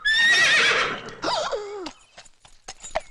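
A horse gives a loud, close whinny that rises and falls for nearly two seconds in a comedy film scene, followed by a few scattered knocks and faint clatter.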